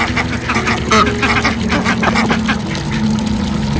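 Agitated ducks quacking near a backyard swimming pool in rural Virginia, loud and close, a rapid overlapping run of harsh quacks throughout.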